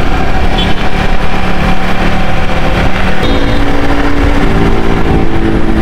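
Motorcycle engine on a night ride along the busy 300 Feet road, a loud, steady, continuous roar with road and traffic noise throughout and no pauses.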